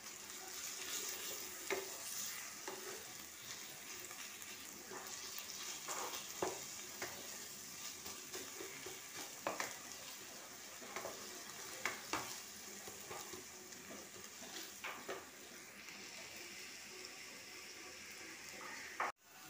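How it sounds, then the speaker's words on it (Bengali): A quiet, continuous sizzle of ginger, garlic and onion frying in a pan for chicken, with scattered clicks and scrapes of stirring and a faint trickle of water. No one speaks, and the sound cuts off abruptly at the end. "আদা পেঁয়াজটা ভালো করে ভাজা হয়ে গেছে"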